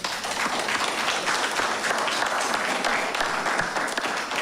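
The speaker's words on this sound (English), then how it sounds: "Can you give them a round of applause?" Steady, dense applause fills a town hall meeting on gun and gang violence in Bermuda, a crowd clapping continuously at an even, fairly loud level with no break.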